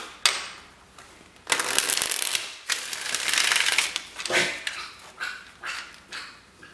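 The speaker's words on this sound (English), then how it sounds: "my dog is gagging in the corner" A dog gags and retches in a room corner, loud irregular bursts of hacking and wet heaving that swell and break off, then come in shorter spasms toward the end.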